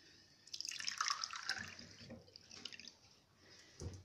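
Water poured into a cup or pan for sugar syrup in a home kitchen, a splashing, trickling pour that swells for a couple of seconds then tapers off, close and fairly quiet.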